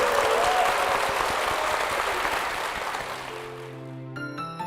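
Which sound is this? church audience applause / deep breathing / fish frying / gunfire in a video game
church audience applause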